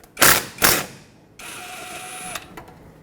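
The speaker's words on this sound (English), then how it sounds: "remove the old banjo bolt from this caliper. Use a 12mm socket to do that." Socket wrench ratcheting on a brake caliper banjo bolt of a 2006-2010 Hyundai Sonata: two loud clicking bursts, then a steadier mechanical whir with a faint high whine, ending in a few quieter clicks.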